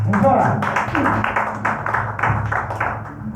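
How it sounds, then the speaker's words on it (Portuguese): A church congregation claps for Jesus in quick, rhythmic hand claps that run under a voice talking over them. "Palmas para Jesus"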